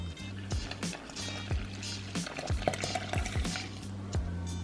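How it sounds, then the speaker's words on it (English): Liquid poured into flour for thin-crust anchovy pizza dough, a soft quiet pouring and trickling sound with faint clinks, close and alone. "Now we're gonna pour that right in to the flour."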